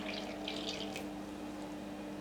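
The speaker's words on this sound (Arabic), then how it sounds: "غادي ندير المواد السائله اللي هي الماء" Water is poured into a mixing bowl of sifted dry ingredients for eggless madeleine cakes, a faint steady trickle lasting a couple of seconds.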